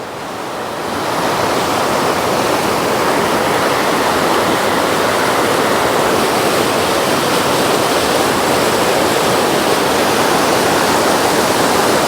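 Water flows steadily through a river inlet, a dense, unbroken rush that holds at an even loudness throughout, with no voices over it.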